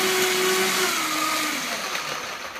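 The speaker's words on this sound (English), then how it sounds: "Vitamix works real well for this." A Vitamix blender whirs loudly and steadily, its motor pitch sliding downward as it runs alone with no talking.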